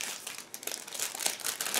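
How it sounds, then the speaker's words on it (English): Crinkly plastic bag holding parts of a 1/700 scale Japanese Navy battlecruiser Kongo model kit being opened by hand, with soft close rustles and crumpling bursts and no talking. "Just give me a second to open the plastic bag."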